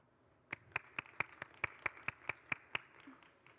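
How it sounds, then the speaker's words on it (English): A single pair of hands claps about a dozen times in steady rhythm, faint and sparse, welcoming panelists at a climate resilience pavilion event. "please join me with a round of applause to welcome my fellow esteemed panelists"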